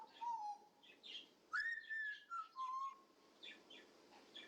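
A parrot imitates an answering machine, giving faint, close whistled beeps and sliding tones broken up by short chirps, alone in a quiet room.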